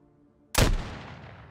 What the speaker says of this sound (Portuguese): a gente consegue atirar, né?